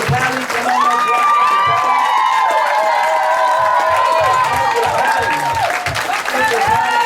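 An audience applauds and cheers after a church play, a dense wash of clapping with whoops and some children's shouts running throughout, while voices carry on underneath.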